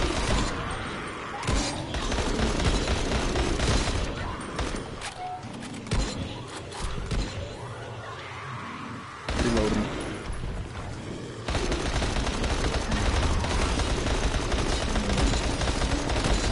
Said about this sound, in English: Dude, this SMG is fucking accurate.